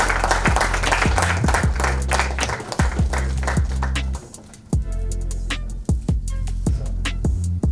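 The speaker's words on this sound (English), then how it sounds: "You need to give him a bigger round of applause." An audience applauds at a book launch while low background music plays. Steady clapping fills the first half and then thins out, with the music's deep tones carrying through underneath.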